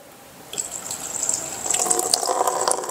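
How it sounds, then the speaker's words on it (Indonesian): Water starts gushing from a tap fed by a booster pump during a flow switch test, a steady hiss swelling in strength after half a second and continuing with splashing. "sekarang kita akan aktifkan atau alirkan air di sini"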